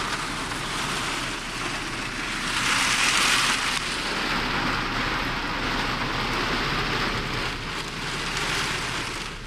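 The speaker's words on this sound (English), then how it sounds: "hopefully the rain beating on the windshield won't be so bad" Thunderstorm rain pounds steadily on a car windshield, a dense, loud hiss of drops that swells slightly midway, heard from inside the car with no talk.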